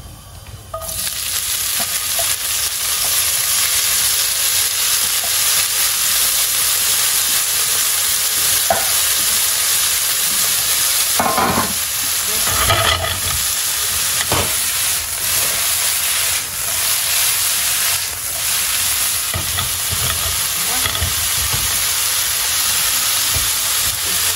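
Chanterelle mushrooms and gizzards fry loudly in a hot pan, a close, continuous sizzling hiss with intermittent bursts of crackle and scraping stirs.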